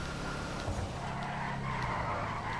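A Bravado Gauntlet Hellfire muscle car fishtails in GTA Online, tires skidding and squealing over a steady engine roar, loud and continuous for a few seconds with no talk.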